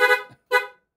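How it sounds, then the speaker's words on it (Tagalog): Two short, loud honks from a Yamaha Sniper 155 motorcycle horn, sounded close up with the engine off and a brief gap between them. "Busina tayo."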